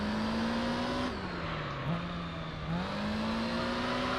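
A race car engine holds a steady, loud drone in Gran Turismo 3 during an endurance race on Special Stage Route 11, its pitch dipping and recovering once midway, with possible faint tyre squeal mixed in.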